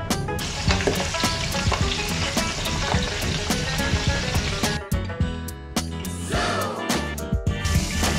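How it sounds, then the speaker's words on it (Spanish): Peppers frying in hot oil in a pan, a steady dense sizzle with crackles and pops running throughout, close and loud, briefly dipping once or twice before resuming. "vamos a freír unos pimientos"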